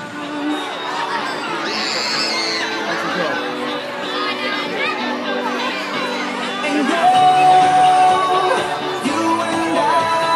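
A large crowd chattering and calling out, a dense close wall of many overlapping voices with occasional shouts and whoops, swelling louder toward the end.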